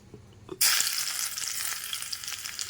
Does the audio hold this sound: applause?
no